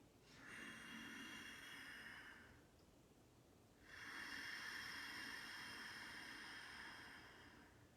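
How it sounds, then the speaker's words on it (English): Ujjayi yoga breathing with a constricted throat: two long, slow, breathy hisses, one drawn in and one let out, close and steady, separated by a short pause, with no talking. "We'll take 3 deep breaths, taking the back of the throat, constricting it back."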